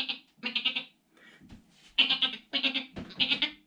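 A goat bleats several times in quick succession, nasal wavering calls in short bursts separated by brief pauses, close and clear with no talking.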